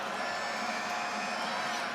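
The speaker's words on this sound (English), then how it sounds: "Crowd getting into it here." A crowd at a women's college basketball game at Virginia Tech cheers before free throws, producing a steady, continuous roar of mixed voices that stays level without sharp peaks.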